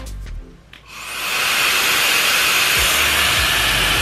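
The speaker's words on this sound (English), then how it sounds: "next level blow dryer right here." A powerful blow dryer switches on with a brief click and rises into a loud, steady, close-up airy roar and hiss that runs without a break.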